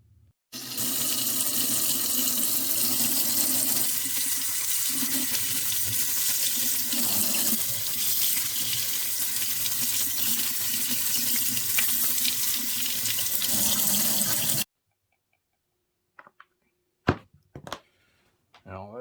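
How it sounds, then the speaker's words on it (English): Tap water pours steadily into a sink over a small construction part for the Apex 2TC bypass link, a loud continuous rush lasting about fourteen seconds. It stops abruptly, followed by a few light clunks. "I'll just run it under the water"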